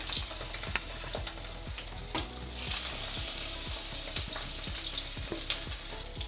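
Eggplant pieces dropped into hot oil for a Bengali dish, giving a steady loud sizzle and crackle with repeated sharp pops and scraping stirs throughout.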